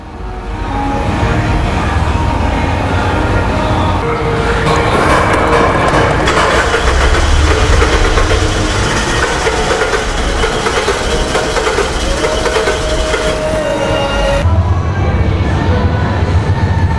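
A 2003 Mazda Protege 5 engine cranks and catches, then settles into a loud, steady running drone close to the recording, continuing throughout with slight shifts in tone.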